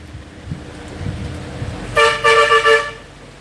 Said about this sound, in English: That was a honk for Dark Brother right there.